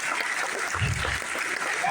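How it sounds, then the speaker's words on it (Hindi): Students clap in a school assembly, a dense, slightly distant patter of many hands that holds steady for a couple of seconds, with a voice faintly audible underneath. "बाकी लोग ताली बजाओ।"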